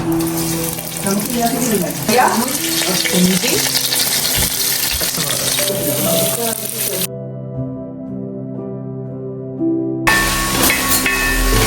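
Garlic goes into a hot pan for a chicken curry, a hissing, steamy sizzle with some clatter, cut by a few seconds of near silence before the sizzle returns loud.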